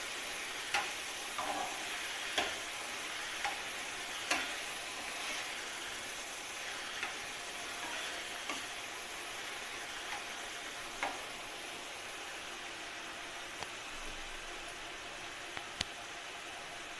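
Chicken pieces frying in oil in a pan, a steady close sizzle that runs throughout, with occasional sharp pops and light clinks of stirring scattered across it.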